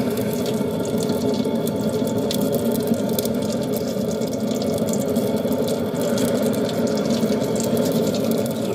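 Waste oil flows steadily into a DIY oil- and wood-burning stove, making a continuous rushing, trickling wash with faint ticking running evenly throughout.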